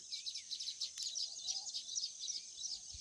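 Dense, high-pitched chirping from a flock of weaver birds at their nests in a babul tree at dawn, continuous and busy, heard from a short distance with no talking.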